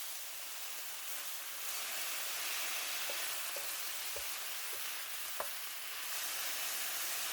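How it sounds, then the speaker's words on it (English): Chicken and cabbage sauté with spicy sauce in a pan for Korean-style chicken fried rice, giving a soft, steady sizzling hiss with a few faint clicks from the utensil, fairly quiet and continuous. "I'm going to cook this first and then start combining it with the cabbage to continue to saute."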